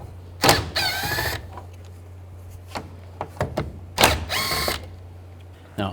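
A power tool with a T30 socket backs screws out of a 2006-10 Volkswagen Jetta's front end in two sharp whirring bursts, with small clicks and handling sounds between them, close up.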